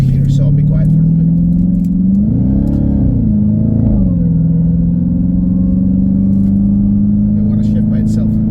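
A Dodge Hellcat's engine drones loudly from inside the car while driving on a highway, its pitch swelling and dropping briefly as the paddle shifter changes gears, then settling back into a steady hum.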